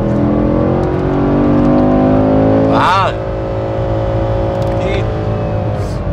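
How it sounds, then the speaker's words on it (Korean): A Chevrolet Camaro SS with its 6.2-liter V8 revs hard on a circuit straight, a loud climbing engine roar that peaks and cuts off sharply, followed by a lower steady drone as the car runs on; someone speaks briefly. "직선로에서 터지는 폭발적으로 올리는 소리, 엔진 사운드 짜릿짜릿합니다"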